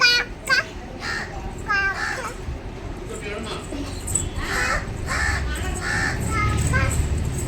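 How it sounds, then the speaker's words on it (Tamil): A crow caws outdoors while a toddler who has just started walking chases after it, the calls recurring in short bursts over steady background noise, with an adult voice talking throughout. "இப்போ காக்காவை பிடிக்கிறது போகிறான்"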